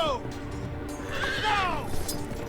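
A horse neighs in the Game of Thrones video game with a rising then falling whinny, close and clear over a steady low background rumble.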